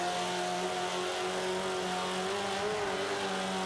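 A car engine in the racing game Forza 5 drones and revs steadily with a rising, wavering tone as it works up through the gears, a fairly quiet game soundtrack with no talk over it.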